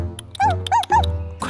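A cartoon dog, Dahei from Boonie Bears, gives three quick rising barks in close succession, loud and near, with little else around.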